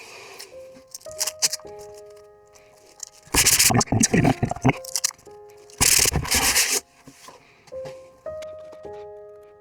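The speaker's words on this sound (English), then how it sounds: "You don't want them to get any splinters, so sand away." A wooden hall entry table is sanded by hand in two loud, rasping bursts of quick back-and-forth scrubbing, with quieter tapping and handling noises before, between and after them.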